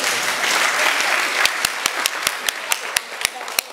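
Audience applause at a fan meet, a dense wash of clapping that thins into distinct sharp claps keeping a steady rhythm toward the end.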